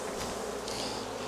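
Honey bees buzz during a beekeeper's hive inspection in May, a dense steady drone of many insects with individual bees swelling louder as they pass close.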